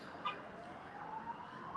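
An emergency vehicle siren outside in Melbourne, a faint rising wail heard from a distance over low background noise, with no talk.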